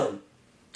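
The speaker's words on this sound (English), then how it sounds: "still have that weird cough" A single short cough up close, followed by a brief quiet and a small faint sound at the end.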